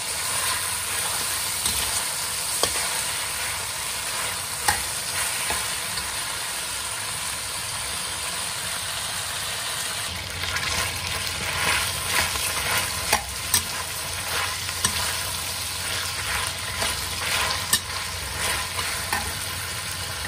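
Bitter gourd and meat frying with soy sauce and black salted beans in a pan, a steady close sizzle with stirring scrapes and clicks throughout, louder crackle after the midpoint, no talking.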